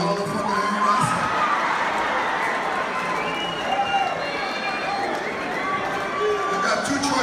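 A live podcast audience in a packed room cheers and shouts together in a loud, steady roar that holds for several seconds, with scattered whoops and voices rising above the crowd noise.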